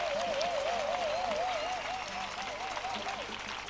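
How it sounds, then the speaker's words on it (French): A church congregation claps together, a dense steady patter of applause alongside a wavering sung or sustained vocal tone. "Acclamons pour lui. Let's clap for him."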